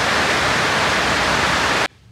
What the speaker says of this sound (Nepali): पानी पर्यो हेर्नुहोस्।